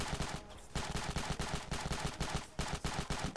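Rapid bursts of automatic gunfire crack out in a desert battle in the video game Ravenfield, loud and close, with repeated volleys and only brief gaps between them.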